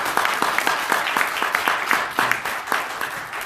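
An audience at an international forum on fair elections in 2020 gives a big round of applause, a loud, dense clapping that at times falls into a distinct beat and carries on without pause.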